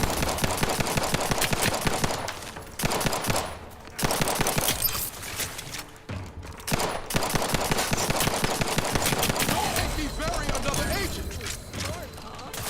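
Rapid automatic gunfire in The Outer Worlds 2, loud sustained bursts of shots crackling in long strings with brief pauses between volleys, close and dominant over the scene.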